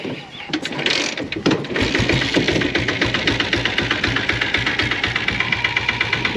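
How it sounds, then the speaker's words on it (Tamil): A restored diesel Bullet motorcycle with a long bottle silencer cranks and starts, then settles into a loud, close, steady thumping idle with a rapid mechanical knock. "வண்டி ஸ்டார்ட் பண்ணி காட்டுறேன்"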